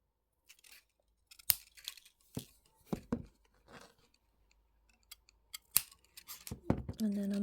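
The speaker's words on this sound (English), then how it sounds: "Cut off these middle wires." Sharp metallic snips of cutters cutting jewellery wire while making a simple ring, several separate clicks spread across the clip with quiet handling noise between them and a faint hum at the end.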